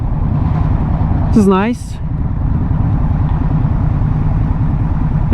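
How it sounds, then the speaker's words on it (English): 2022 Indian Scout Bobber motorcycle engine idling steadily with a low, even mechanical thrum, close up and continuous, while someone briefly speaks over it near the start. "So it idles at 1200 RPMs, 1200 to 1150."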